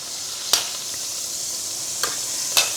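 Beef rouladen browning in hot oil in a pan, giving a steady close hiss of frying with a few sharp pops and crackles spaced through it.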